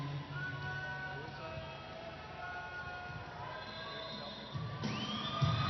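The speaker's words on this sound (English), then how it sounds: "You've got to cheer your team on here now." A roller derby crowd at a TXRD bout between the Holy Rollers and the Hellcats cheers for its team, a dense continuous roar with shouts rising near the end, and an announcer talks over it.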